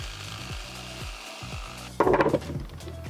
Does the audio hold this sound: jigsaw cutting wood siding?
yes